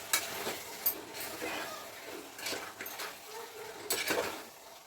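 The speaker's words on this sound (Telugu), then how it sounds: "కొద్దిసేపు నూనెలో మటన్ అనేది ఉడకాలి" Mutton frying in oil in a pan, a soft sizzle under repeated spoon stirs and scrapes, with a few louder clinks of metal on the pan.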